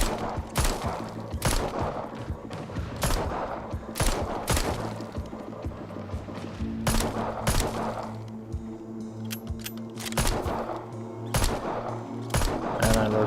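Rapid bursts of gunfire shooting zombies in the VR game Arizona Sunshine, loud repeated shots in clusters of several cracks over a steady low hum, running throughout with brief gaps.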